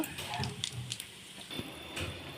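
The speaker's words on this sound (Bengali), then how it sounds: "তেলের মধ্যে শুকনো লঙ্কা পাঁচ ফোড়ন তেজপাতা ফোড়ন দিয়ে দেব" Dried chillies, panch phoron and bay leaves fry in hot oil for khichuri, giving a close, steady crackle with scattered sharp pops and spits.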